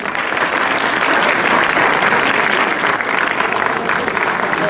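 A stage-drama audience at an Urdu comedy play applauds loudly and steadily, a dense wash of many hands clapping together that holds without a break from start to finish.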